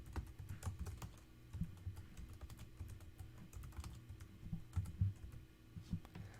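Quiet, steady clatter of fingers typing a description on a computer keyboard, a continuous run of soft keystrokes heard alone with no voice.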